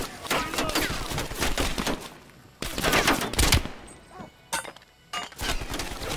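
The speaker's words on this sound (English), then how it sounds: "I'm loving this rifle right here." Rifle fire in Call of Duty: Black Ops Cold War, loud rapid bursts of shots cracking out in quick succession, pausing briefly and resuming, with a voice occasionally speaking over the gunfire.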